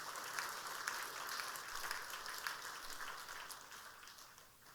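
A Korean church congregation breaks into applause during a sermon, broad steady clapping that holds evenly and then thins slightly toward the end, with no voices over it.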